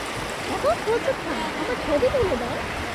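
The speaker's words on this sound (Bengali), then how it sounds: "দেখো দেখো দেখো, স্রোত কিন্তু প্রচুর" Strong river current surging at Rishikesh: a steady broadband rush of moving water, with a few thin whistling or chirping tones drifting over it.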